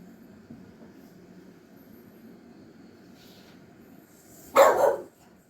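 A single dog bark, loud and close, bursts out near the end after a long stretch of quiet room hum.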